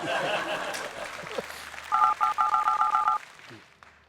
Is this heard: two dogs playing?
no